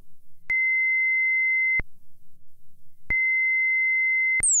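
A steady sine-wave tone from a modular synthesizer with LFO pitch modulation pulses on and off twice, each held note about a second long, ending with a short high falling sweep.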